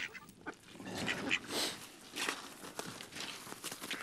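A live decoy duck quacks and honks in a marsh during waterfowl hunting, with short calls scattered among splashing, footstep-like rustles close by and no talking.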